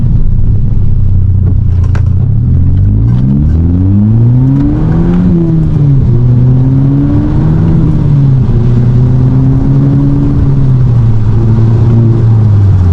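A VW Golf GTI engine revving hard with traction control off, close and loud, the pitch climbing through several gear pulls with brief drops at each shift over steady road rumble.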